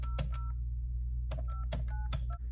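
Telephone keypad tones dialing a call to McDonald's, about seven short beeps in an uneven rhythm over a steady low hum, close and clear with no talking.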